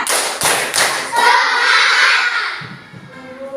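Schoolchildren in a classroom clap together in a quick rhythmic run of about four crisp claps, then their voices rise in a shouted chant.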